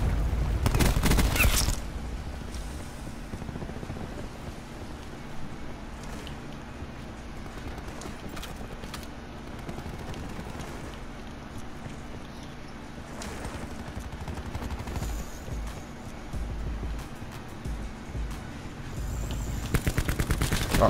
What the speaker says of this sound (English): Oh, wow, that gun shoots fucking quick.